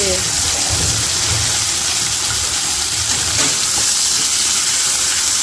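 Chicken pieces fry in hot, spattering oil, turned over in the pan, giving a steady, dense sizzle close by for the whole stretch without pause.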